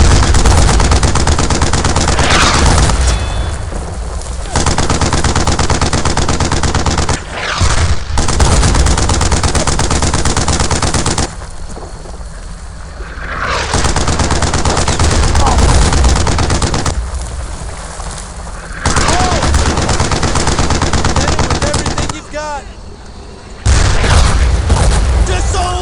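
Heavy gunfire rages in a World War II shooter set around Château Colombières, with booming rifle and machine-gun bursts filling loud sustained stretches that break off into brief quieter gaps.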